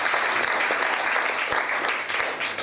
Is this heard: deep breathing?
no